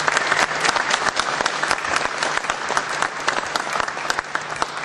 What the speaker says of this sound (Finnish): Voitaisiin vaikka aplodit antaa.